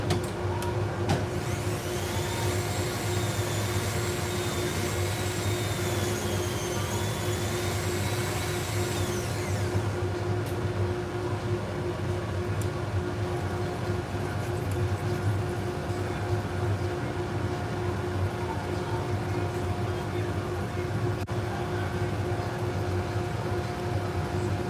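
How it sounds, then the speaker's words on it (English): Dremel rotary tool buffing corrosion off salon shears, a high whining motor hum with a steady pitch for about nine seconds, then stopping and leaving a lower steady machine drone for the rest of the recording. "I'm going to use my Dremel tool to clean that up a little bit."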